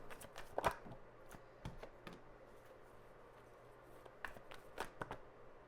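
Tarot cards are shuffled close by in quiet bursts of papery riffling and soft taps, with the bursts spread irregularly through the stretch.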